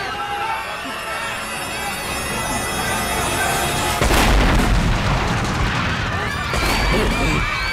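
A bomb hidden inside a statue goes off with a loud booming blast near the four-second mark, a broad crashing burst followed by a second hit, over an already busy scene of raised voices and commotion.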